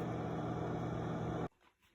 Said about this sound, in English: I'm going to put it on for 1 minute to heat the spaghetti in the microwave.